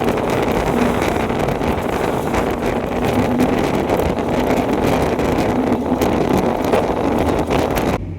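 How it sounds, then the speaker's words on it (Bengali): Strong wind blows across an open road in a steady, loud roar that buffets the microphone without pause, with no voices. "আমি তোমাদেরকে একটু শোনাচ্ছি যে কতটা পরিমাণ হাওয়া দিচ্ছিল"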